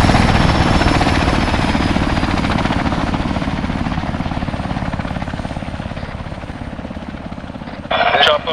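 Helicopter in the video game ARMA 3, a loud steady rotor thump and engine whine filling the whole stretch, with a brief burst of noise near the end.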